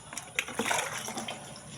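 Fresh drinking water pours into an animals' container outdoors, a short, soft splash and trickle with gentle sloshing, fairly faint.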